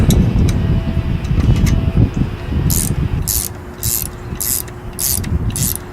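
A wrench ratchets on a spring compressor fitted to a 2006 Volvo S40 2.4L front strut, giving six evenly spaced bursts of sharp metallic clicking after a few scattered knocks, close and loud.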